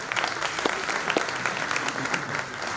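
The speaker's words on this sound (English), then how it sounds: "can we get another round of applause for all these wonderful people?" An audience claps at a talk event for a group of people on stage. The applause is brief but dense and lively, with many overlapping hands at a moderate level throughout.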